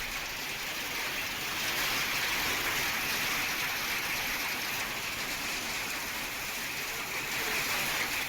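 Steady rain pours down as a dense, even hiss with no breaks, heard alone with no voices.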